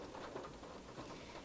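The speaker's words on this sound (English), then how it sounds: "Rain. It's been a long time since we've gotten rain around here." Steady rain falls in the video game Seduce Me the Otome, a soft continuous hiss and patter at low level with no distinct drops or voices.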